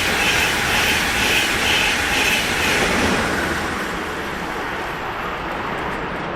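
A train rolls through Düsseldorf Airport station with a steady rumble and faint wheel clatter, loud at first and then fading as it moves away.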